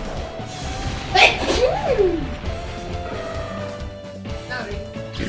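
A single sharp sneeze bursts out close by, with quiet room sounds and a voice briefly around it.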